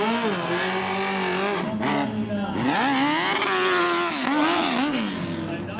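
A big-engined motorcycle at a Harley-Davidson hill climb, a sport-dirt bike hybrid, drones loudly and continuously with rising and falling revs as it labors through moguls, while a commentator talks over it.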